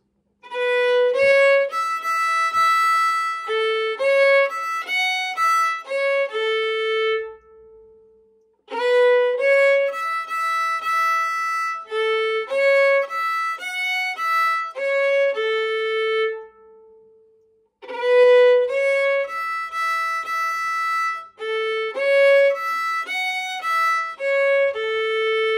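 A melodic instrument plays the opening phrase of part B of the jig First Judy Calahan, a lilting run of clear, distinct notes repeated three times with short pauses between, close and steady.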